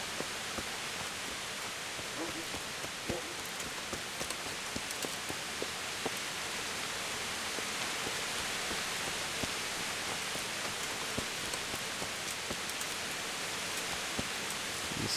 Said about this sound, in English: The sun's out and it's raining.